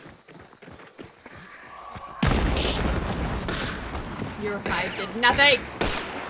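Rapid gunfire in a Bloodborne-style video game, a burst of loud, dense shots and booms that sets in partway through, heard over excited voices talking during play.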